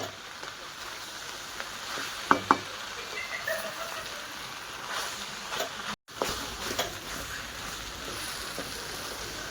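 Chopped onion with salt frying in a pan for hotel-style gravy, giving a continuous, even sizzle with a couple of sharp clicks and a brief dropout partway through.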